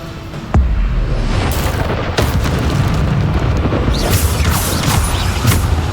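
A Bombarda blast spell in the Hogwarts Legacy video game: a sudden loud explosive boom followed by a dense, roaring rumble of debris and crackling that stays loud throughout.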